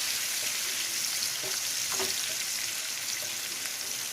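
Chicken fries in a pan with a steady, close sizzle throughout as turmeric is stirred in, a few soft scraping stirs breaking through the hiss.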